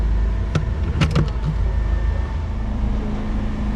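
A petrol generator runs steadily nearby with a constant low engine hum, while a few clicks and clatters of handling sound over it; no one talks.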